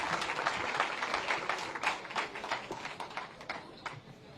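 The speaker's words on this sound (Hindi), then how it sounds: "एक बार जोरदार तालियों के साथ अभिनंदन वंदन स्वागत यशस्वी मुख्यमंत्री" A large crowd at a public event in Aligarh gives a loud ovation welcoming Chief Minister Yogi Adityanath. The clapping is thick and sustained at first, then thins into looser, fading claps.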